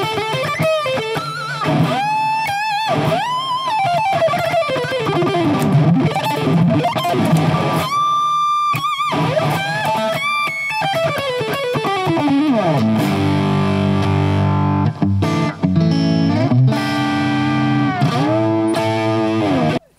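Electric guitar played through the Two Notes Genome amp plug-in, a loud distorted tone with sliding, bending melodic lines and sustained chords, continuous and alone.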